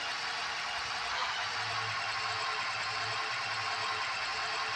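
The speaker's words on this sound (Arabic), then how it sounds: "لو لاحظنا ان صوت الموتور هدي شويه، وان الار بي ام هيبدا ينزل معايا للطبيعي" A car engine idles steadily after its coolant temperature sensor plug is reconnected, a constant low mechanical hum with a faint rhythmic pulse, heard close and alone without any voices.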